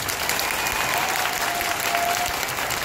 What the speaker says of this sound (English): just by applauding one more time for Shanaynay